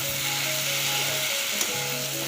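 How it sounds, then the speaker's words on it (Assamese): Slices of pointed gourd fry in a hot pan with a close, continuous sizzle, a low steady hum beneath it and one brief clink near the end. "এতিয়া আমি ভাজি থোৱা পটলখিনি দি আৰু 2 মিনিটমান ভাজি ল'ম।"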